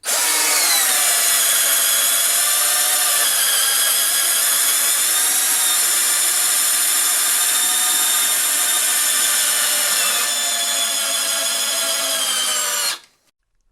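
Hyper Tough and Warrior budget cordless drills boring into wood with a spade bit, a loud continuous high whine with grinding bite for about thirteen seconds before stopping abruptly.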